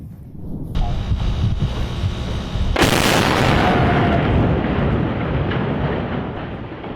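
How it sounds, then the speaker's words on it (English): A large fire roars steadily with heavy low rumbling, broken by a sudden loud blast that surges into a sustained, louder roar of flames. "Big explosions. It's roaring up in there."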